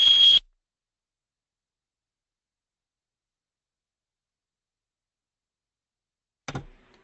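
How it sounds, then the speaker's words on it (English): A loud electronic beep sounds abruptly at the very start, a steady high tone cut off after a split second, then long silence until a brief click and rustle near the end. "Sorry for the crazy beep at the end."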